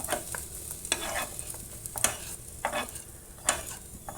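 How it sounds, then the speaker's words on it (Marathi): Stirring and frying in a pan while roasting coconut and onion for egg curry: close scraping strokes of a spoon against the pan at an irregular rhythm over a soft sizzle. "यातच आपण आलं लसूण पण परतून घ्यायचं थोडं."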